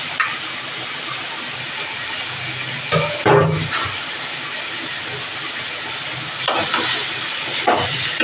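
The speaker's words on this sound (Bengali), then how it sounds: "বন্ধুরা আমি এখন চিকেনটা দিয়ে দিচ্ছি।" Chicken pieces fry in fish oil in a pan, a loud continuous sizzling hiss that swells in a few bursts as the food is stirred, close up with no talk.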